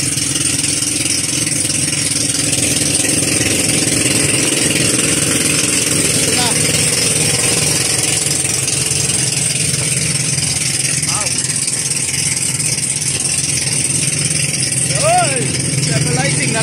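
A steady engine on a bangka fishing boat drones close by, low and even throughout, with a few brief faint voices surfacing now and then.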